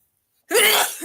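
A single sharp sneeze bursts out after a moment of silence, close and loud, then trails off quickly.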